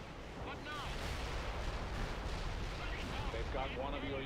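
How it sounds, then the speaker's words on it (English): Artillery strike in the real-time strategy game World in Conflict, with a steady roar of shelling and blasts running throughout, while a voice talks over the barrage. "We'll drop double artillery. Hit them with that."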